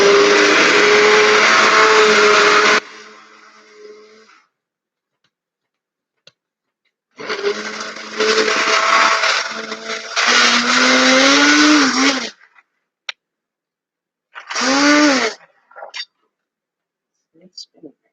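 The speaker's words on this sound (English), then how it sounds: "My blendy stick." A stick blender whirring in a batch of homemade triple-milk liquid shampoo (buttermilk, goat milk, coconut milk), running loudly in several bursts with pitch dips as the load changes, separated by silent gaps.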